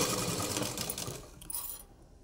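A sewing machine runs steadily as it stitches a latkan design, a close, continuous mechanical whir that slows and stops near the end.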